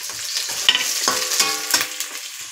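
Onions and green chillies frying and being stirred in a pan, a steady close sizzle broken by several distinct scraping stirs at regular intervals.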